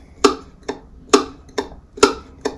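Percussive tick-tock strokes on a mandolin with all strings muted mid-neck, five sharp clicks in an even, alternating rhythm, close and fairly loud with nothing else heard.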